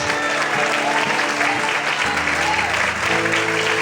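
Church congregation clapping in praise during a service, a steady wash of many hands with faint voices and instrument tones beneath.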